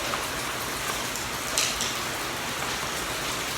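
Steady rain pours down on a surface in a constant dense hiss, close by with no voices.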